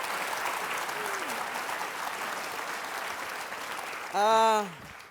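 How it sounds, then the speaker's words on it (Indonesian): An audience applauds Pak Mucle on a comedy stage show, a steady, moderately distant wash of clapping. A voice briefly rises over it just before the end. "tepuk tangan dulu untuk Pak Mucle"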